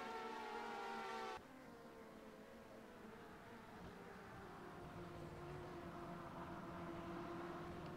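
Race car engines drone steadily through a sim racing session of the World Sports Car Challenge at Interlagos in rFactor 2, with a loud revving whine at first, then a dense, continuous roar of several cars together.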